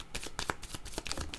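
Cards sliding and flicking against each other as one is drawn from a deck, a quick run of close, crisp papery snaps and rustles with no talking.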